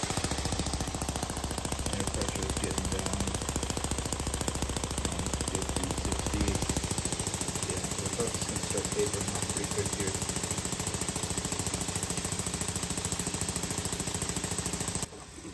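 Small air-powered engine built from syringes runs steadily at low RPM, a rapid mechanical clatter that stays loud and close throughout, with its low pulsing beat dropping away partway as it slows.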